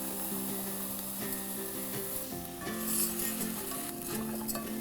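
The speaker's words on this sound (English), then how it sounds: "now I'm stirring it to coat every single grain with a little bit of fat from that butter" Short grain rice stirred in melted butter in a pan for risotto, a steady soft scraping and stirring with a light sizzle underneath, close and moderately quiet with some faint tonal background hum.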